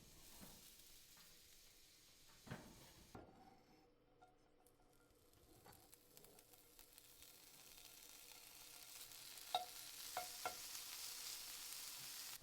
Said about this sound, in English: now we're just cooking a little bacon